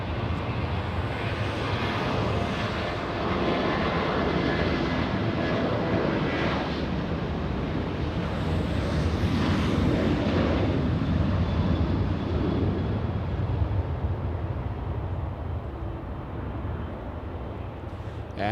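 Big Boeing 777 heavy jet at LAX producing a loud, continuous engine roar that swells toward the middle and stays strong to the end, with no talk over it.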